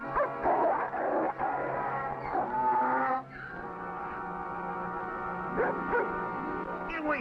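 A dog barks and yips sharply in a Western TV adventure setting, loud and close, with a voice shouting over it at times.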